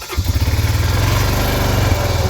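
Honda TRX400 Rancher ATV engine catches and settles into a steady, rapid thumping idle, loud and close, running alone without talk.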